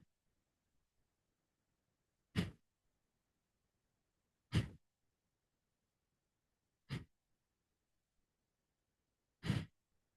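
Four slow, breathy exhales spaced a couple of seconds apart during a gentle breathing exercise class, each a soft airy rush standing alone in near silence.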